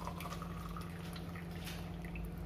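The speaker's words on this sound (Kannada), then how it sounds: "ಈಗ ಹಾಕ್ತಾ ಇದ್ದೀನಿ, ಬಿಸಿನೀರು ಹಾಕ್ತಾ ಇದ್ದೀನಿ." Hot water poured into a biryani pot for hotel-style dum biryani makes a faint, steady trickle with drips over a low kitchen hum, heard alone.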